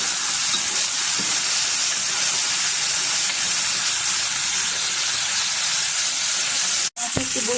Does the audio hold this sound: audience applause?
no